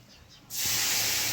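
Masoor dal lentils hit hot fried spices in a pan, setting off a sudden loud, steady sizzling hiss after a quiet start, with no talking.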